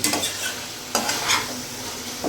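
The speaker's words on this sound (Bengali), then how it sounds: "এরই মধ্যে এখানে ভেজে রাখা আলুগুলো আমি দিয়ে দেবো এবং ভালো করে আমি মিশিয়ে নেব।" Pre-fried potato pieces stirred into sizzling fried spice paste in a pan for a katla fish curry with potatoes: a steady frying hiss broken by a few sharp scraping stir strokes, close and moderately loud.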